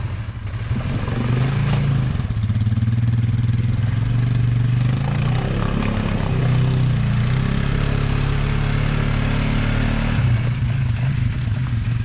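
A small ATV quad engine rumbles steadily throughout, idling with occasional slight revs, loud and close, with no talking.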